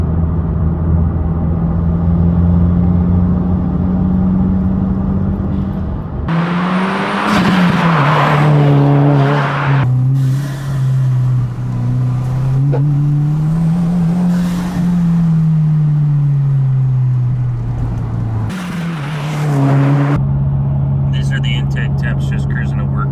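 A 2022-2024 Subaru WRX (VB) with a Perrin intake heat shield hums along on a commute, engine drone rising and falling through gear changes, with louder surges and road noise filling the cabin.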